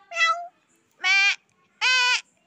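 Baby goats kept in a protective enclosure in a village, giving three separate high bleats, close and clear, each about a third of a second long with short pauses between.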